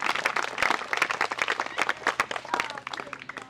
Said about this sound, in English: Let's give a round of applause to Fifer Tom DeRose and drummer Alec Gilliam